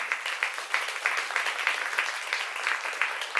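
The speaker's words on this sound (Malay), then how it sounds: "Mari kita berikan tepukan untuk beliau." An audience claps in a steady patter of applause, many hands together, fairly close and sustained throughout.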